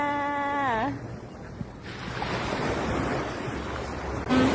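Sea waves wash onto a busy beach, a steady roar of surf mixed with wind buffeting the microphone, while a brief tonal sound rises and fades at the start.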